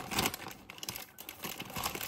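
Plastic Shein parcel packaging being cut and opened with small scissors, giving close, soft crinkling and tearing in short bursts, alone with no talk.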